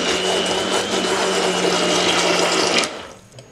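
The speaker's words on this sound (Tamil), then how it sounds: "இப்போ பிளண்டரில் நம்ம கலக்கலாம்." A blender mixes a homemade moisturizing soap mixture with a loud, steady motor whir close by for nearly three seconds, then cuts off abruptly, leaving quiet.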